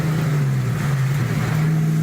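Car engine with aftermarket exhaust revs near the microphone, holding a loud, steady low growl with a droning exhaust tone throughout.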